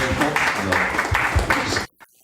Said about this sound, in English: Give George a nice round of applause.